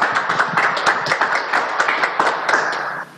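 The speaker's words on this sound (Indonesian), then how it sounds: "tepuk tangan dulu ya, tepuk tangan" An audience claps through a morning talk session with company directors, a dense run of hand claps that swells in rough waves, close and fairly loud, then cuts off abruptly near the end.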